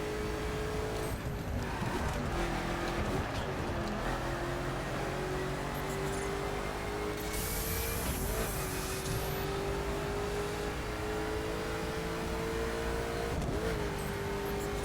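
A Koenigsegg Agera R in the racing game The Crew accelerates down a straightaway, its loud engine drone climbing steadily in pitch, dropping briefly at each gear shift, then rising again.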